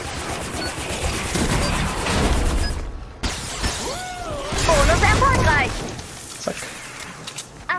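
Gunfire in the video game Fortnite Save the World, rapid shots with shattering and crashing game effects mixed under someone talking.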